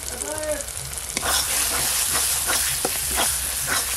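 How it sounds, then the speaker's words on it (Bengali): Spice masala frying in butter in a pan, a loud steady sizzle and hiss with a few scraping stirs near the start and intermittent crackles, close up, no talking. "বাটার, মশলাটা বেশ ভালো করে কষে নিয়েছি"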